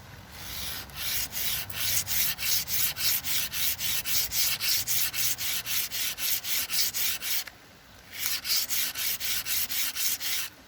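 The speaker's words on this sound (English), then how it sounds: "It's easiest now to work right on the very edge of the sanding board, otherwise you end up scraping your fingers." Slate arrowhead rubbed back and forth on the edge of a sanding board, a close, steady run of rhythmic gritty scrapes that pauses briefly partway and then picks up the same even strokes.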